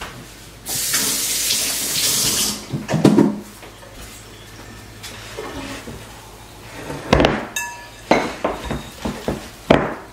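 A kitchen tap gushes for a couple of seconds while hands are wetted during sourdough dough work, followed by wet hand rubbing, a few knocks and clatters, and another short burst of running water near the end.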